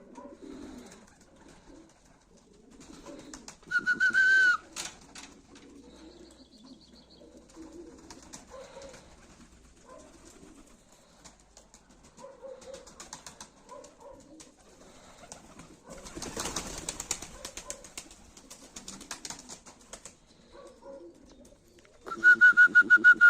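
Pigeons on a house roof coo and call in scattered bursts over a quiet background, with several louder, closer calls and a stretch of rustling or wing flapping partway through.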